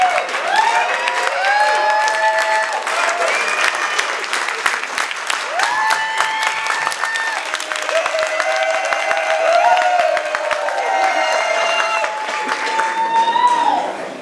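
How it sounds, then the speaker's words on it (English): Wedding guests at a Persian wedding reception clap together in a loud, sustained round of applause lasting the whole stretch, with a tonal musical background running underneath. "There's a clap coming. I'll wait for the clap."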